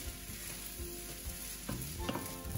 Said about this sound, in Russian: Дальше я выкладываю сюда рис с яйцом. И все время перемешиваю на сковороде,